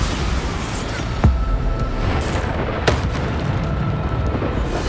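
Spell explosions from the Bombarda charm in Hogwarts Legacy, two sharp booming blasts over a dense, rumbling combat background with steady noise throughout.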